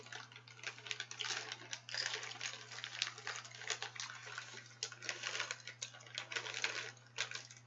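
Bracelets and beads shuffle and rattle inside a purse bag in a quiet, soft setting, a steady stream of close, light clicking and clattering with a low constant hum beneath.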